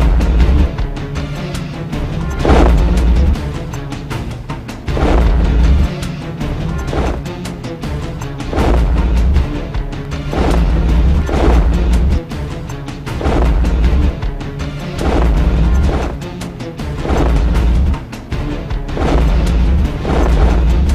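A Dhanush artillery gun fires shells in a run of heavy booms, each a loud deep blast with a ringing tail, repeating about every two to three seconds.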